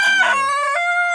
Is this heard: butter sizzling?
no